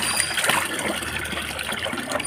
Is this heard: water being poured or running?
yes